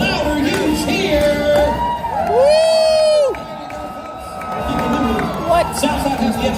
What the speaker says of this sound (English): One last time, the louder you cheer.